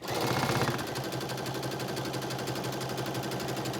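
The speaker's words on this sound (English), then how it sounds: "I'm just going to do a little zigzag stitch, and you want to stretch the elastic just a little bit." Sewing machine running steadily as it zigzag stitches stretched elastic onto a garment, a close, even mechanical whir with rapid needle chatter that starts slightly louder and then holds a constant pace, with no talking.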